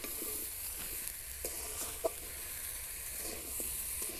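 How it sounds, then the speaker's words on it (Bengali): Raw mango pieces and sugar are stirred in a pan over low heat, making a soft, continuous sizzle with faint scraping and a few light knocks from the spoon. "একদম হালকা আঁচে একটু নাড়াচাড়া করতে হবে।"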